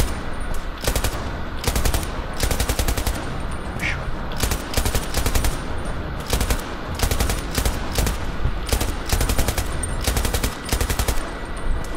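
Heavy automatic gunfire in the shooter game Battlefield 2042, dense and continuous bursts of rapid fire over a loud battlefield din for the whole stretch, with no clear talk.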